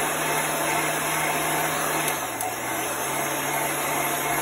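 A heat gun blows steadily at close range to dry chalk paste, a continuous even whooshing roar with a faint brief dip partway through and no talking.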